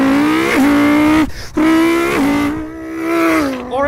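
A voice imitates an Audi R8 engine revving, rising and falling through several throttle blips with a short pause midway, loud and close with no other sound.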